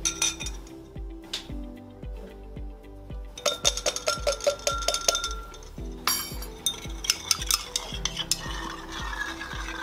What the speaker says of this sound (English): Add it slowly, then you mix it.